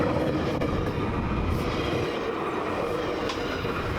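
A train runs on rails with a steady, loud rumble and rolling clatter of wheels, continuous and close throughout, with no voices.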